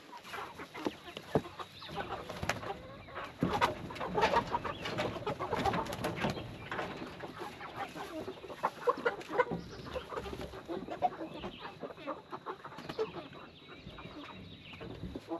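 A flock of Cornish cross meat chickens clucks and murmurs nearby, soft overlapping calls with occasional louder clucks, fairly quiet overall.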